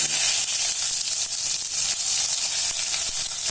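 Tomatoes fry in hot oil for a garlic chutney, giving a steady, close sizzling hiss that holds at an even level throughout, with no talking.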